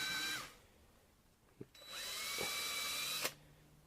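A power drill widens holes in a homemade overhead camera mount, whining in two bursts: a short one at the start, then a longer steady run after a quiet gap with a couple of faint knocks.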